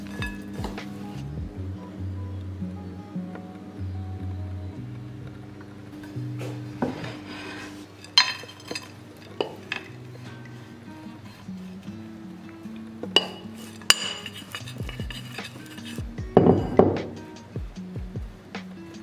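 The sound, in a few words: spreading a mixture into a tart dish with a utensil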